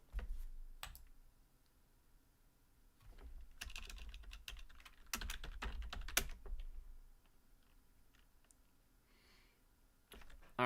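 Keys clatter on a computer keyboard as a password is typed, bursts of quick close taps separated by short pauses, fairly quiet with no talk.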